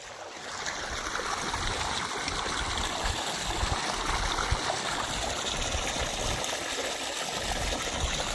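Irrigation water flows steadily through a soybean field with a continuous rushing, trickling sound, close and even throughout, with no voices.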